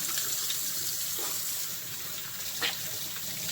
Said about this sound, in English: So I'm just rinsing the seasoning off my hand really quick.